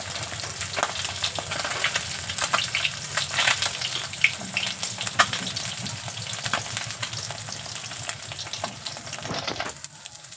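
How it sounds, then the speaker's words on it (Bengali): Pabda fish frying in hot oil, a dense, steady crackling sizzle that runs nearly throughout at close range, with a few sharper pops and faint clinks, then eases near the end; no talk. "আর বাকি মাছগুলোকেও একইভাবে ভেজে নেব"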